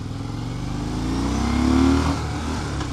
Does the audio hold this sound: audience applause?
no